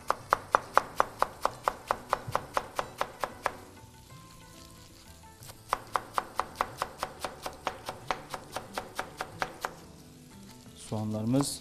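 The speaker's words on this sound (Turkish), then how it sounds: "İnce ince doğramaya başlayalım." Onions finely chopped with a knife on a board in an Anatolian kitchen, a fast steady run of crisp close knife taps that pauses briefly and then resumes, with faint sizzling in the background.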